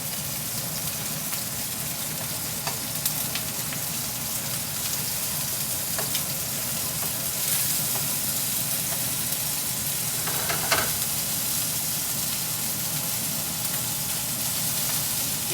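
Dove meat chunks sizzle in a frying pan right after being flipped, a steady close crackle with occasional brief spits and pops, no voices present.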